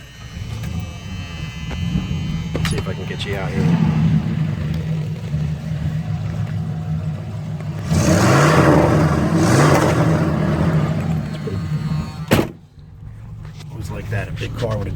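A 1977 Lincoln Continental V8 with glass-pack mufflers rumbles steadily nearby, rising into a couple of louder revs partway through before settling back, while someone talks over it.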